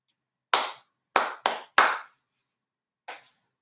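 A music teacher claps a rhythm with bare hands: four sharp claps in an uneven pattern, then after a pause two lighter, quicker claps, close and clear with no talking.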